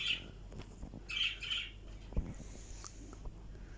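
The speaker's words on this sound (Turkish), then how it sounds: "sesler gelebilir kuşların" Faint bird chirps and squawks come in short bursts from a distance over a quiet outdoor background, with a small thump midway.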